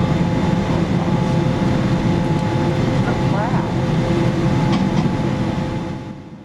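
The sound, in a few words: Air Canada Boeing 787-9 taxiing to the runway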